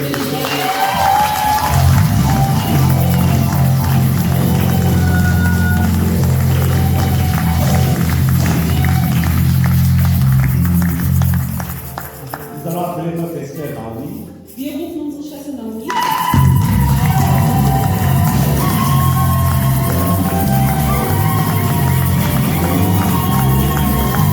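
A church congregation cheers and applauds loudly and steadily, a broad roar of voices and clapping that dips briefly midway before swelling back to full strength.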